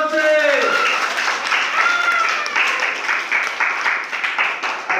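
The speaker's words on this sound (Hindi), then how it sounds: "ताली मारो जोर से" A group of people claps loudly in quick, steady rhythm right after a spoken call, the claps close and bright and continuing to the end.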